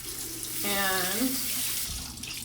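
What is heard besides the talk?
tap water running over a beauty blender sponge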